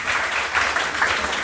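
Audience at a stand-up comedy gig breaking into applause, a dense continuous patter of clapping close and fairly loud, holding steady without a break.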